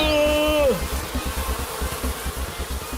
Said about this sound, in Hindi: मधुमक्खियों से बचना है तो पानी ढूंढो।